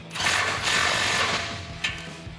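A tool tightens an 18mm bolt on a tubular off-road front bumper being fitted to a 2013-2018 RAM 1500 4x4, giving a loud, close, continuous rattling whir for about two seconds that ends with a short knock.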